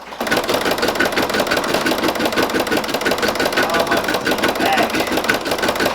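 A Brother Persona embroidery machine stitches a patch with a fast, even, buzzing mechanical chatter. The sound is close and loud and holds steady without a break.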